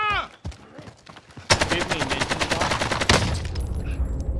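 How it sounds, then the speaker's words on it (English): Dense, rapid gunfire in a military shooter video game, loud bursts of automatic fire following a brief lull, with game sound effects mixed in. "He's getting shot at from down the hill."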